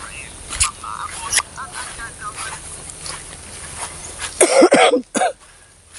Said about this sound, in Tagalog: Naubo pa ako mga ka-friendship.